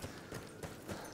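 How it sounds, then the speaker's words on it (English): Horse hooves clip-clop in Battlefield 1 beta Conquest gameplay, a few quick, evenly spaced hoofbeats over a dense battlefield din, moderately loud and close. "Horse is mine. I'm taking that horse."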